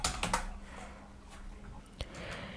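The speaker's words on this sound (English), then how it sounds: "click on this search box and type here Facebook" Several quick clicks of typing on a computer keyboard come close and fairly quiet, a short burst of keystrokes at the start and scattered taps after it, with a sharper tap near the middle.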